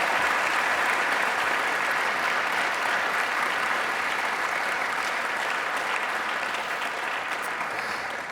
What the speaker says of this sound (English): please give our Aston Martin drivers a round of applause